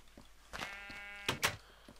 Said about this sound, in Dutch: Ik hoor de schaap.